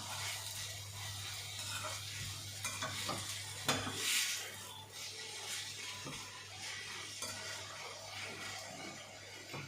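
Mixed-ingredient chutney sautéing in a pan makes a quiet, continuous sizzle with soft scraping stirs over a low electrical hum, and no voices are heard.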